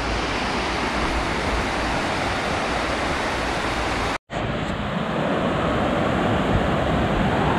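The Slizza mountain torrent rushes through a rocky gorge in a loud, continuous broadband roar of white water. It cuts out abruptly for a moment, then resumes just as strongly.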